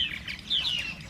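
Purple martins at a gourd rack colony in Texas, with bright chirping calls and warbles rising over a low background hum, fairly close and without speech.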